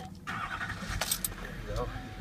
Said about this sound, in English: I'm gonna fire it up, show you under the hood.